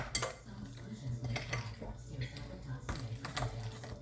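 Milk being mixed into scone batter in a bowl, quiet clinks and scrapes of a utensil against the bowl with a low voice talking underneath.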